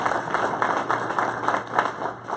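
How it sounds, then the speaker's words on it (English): A room full of people at a book launch presentation gives host Paul Edwards a round of applause, dense, steady clapping at moderate volume throughout, with no talk over it. "a big round of applause just to congratulate him on the success of this event"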